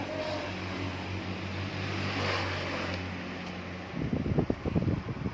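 A DC brushless air conditioner evaporator coil fan runs idle with a smooth steady whir and a low hum, close and moderate in level, before a burst of irregular knocking handling noise near the end.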